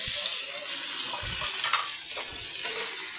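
Steady, loud sizzling of spices tempering in hot oil, with a constant crackling hiss and occasional soft stirring scrapes.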